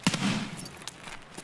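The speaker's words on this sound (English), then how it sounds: "It's like him shooting, but I don't know who he's shooting at." Gunfire in the video game Escape from Tarkov: a short burst of rapid shots at the start, then a single fainter report, with no speech.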